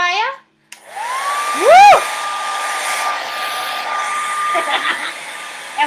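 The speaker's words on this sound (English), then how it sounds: "I'm going to take my hair dryer." A hair dryer drying a freshly painted acrylic canvas of a winter black bear switches on after a short vocal whoop, then blows a loud, steady, close whirring hiss with a rising whine at startup.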